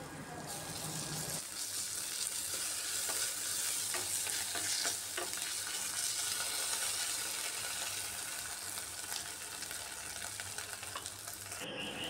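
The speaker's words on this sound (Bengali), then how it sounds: "পেস্টটা দিয়েও আরেকটু ভালো করে ভেজে নিতে হবে পেঁয়াজ আর জিঞ্জার গার্লিক পেস্ট।" Onion and ginger garlic paste fry in a pan with a steady, continuous sizzle and crackle while being stirred, fairly close and consistent throughout, with no talking.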